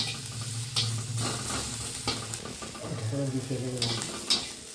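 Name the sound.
frying green chillies in a pan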